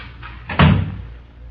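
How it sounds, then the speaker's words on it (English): A door shuts once as a radio drama sound effect, a single soft thud over a quiet background. "close that door, please."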